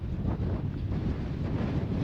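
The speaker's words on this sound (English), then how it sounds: "It's really windy here." Strong wind buffets a microphone outdoors in Japan, a steady loud low rumble with gusty swells that runs without a break for the whole stretch, with no voices over it.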